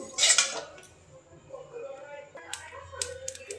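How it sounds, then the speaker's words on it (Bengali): Spices are stirred in a dry wok on a turned-off gas stove, a metal spatula scraping and clinking against the pan in irregular strokes, with an initial louder clatter and faint talk in the background. "আমি গ্যাস বন্ধ করে দিচ্ছি আর শুকনো কড়াইয়ের মধ্যে একটু নেড়ে দিচ্ছি"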